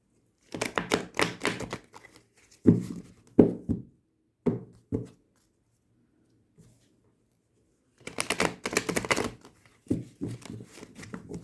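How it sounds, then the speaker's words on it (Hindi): Tarot cards being shuffled by hand in several quick riffling bursts, with clear pauses and a few single taps between them, close and fairly crisp with no talking. "तो कार्ड्स को बहुत अच्छे से शफल कर लेते हैं।"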